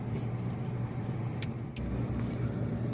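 Road traffic in Mumbai: a steady drone of cars and engines passing nearby, with a constant low rumble and faint higher hiss, no talking.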